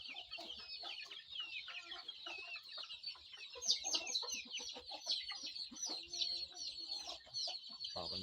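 Native chickens and small chicks clucking and peeping while feeding, a dense continuous chorus of high chirps and clucks, moderately faint, with no one talking.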